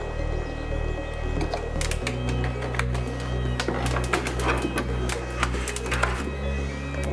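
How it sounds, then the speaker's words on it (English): Protective film peeled off the mat of an X Tool M1 engraver, a close run of crackling, ticking snaps over a steady low machine hum, with no talking. "So let's just peel this off."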